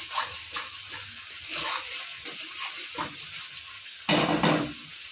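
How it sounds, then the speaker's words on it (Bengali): Spice paste sautés in a pan for an egg curry with potato and cauliflower, giving soft, uneven sizzling and stirring scrapes, then a louder burst of frying near the end. "ভালো করে মশলাটা কষিয়ে নেব যতক্ষণ কাঁচা গন্ধটা না বেরোয়।"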